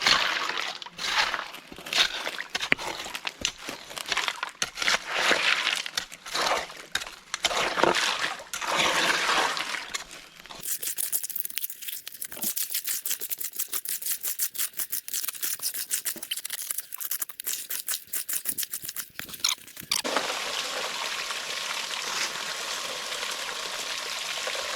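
Water rushing through a high banker gold sluice during a test run: continuous splashing and trickling wash, loud and close, with gritty rattling texture and shifts in tone partway through, no talking.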